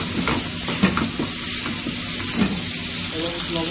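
Potatoes frying in hot oil in a pan for a sea bream fish curry: a dense, constant, loud sizzle, close up, with faint stirring knocks scattered through it.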